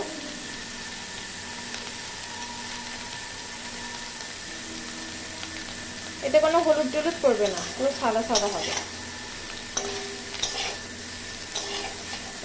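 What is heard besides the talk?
cauliflower frying in oil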